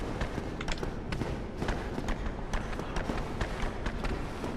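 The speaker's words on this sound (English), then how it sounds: "I hear 2 sets of Capra footsteps, hoof steps, whatever." Rapid, heavy hoofed footsteps of Capra demons in the video game Dark Souls, a dense run of thuds and clacks in quick uneven rhythm, close and continuous for several seconds.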